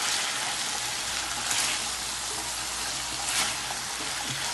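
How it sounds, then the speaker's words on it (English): Seasoned pork frying in a pan, a steady dense sizzle and crackle that runs unbroken and fairly loud throughout, with no talking. "here's the pork. It's frying up, it's frying nice."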